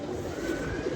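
Pigeons kept in a yard give a brief low cooing over a steady hum, fairly close and moderately loud, with no talking.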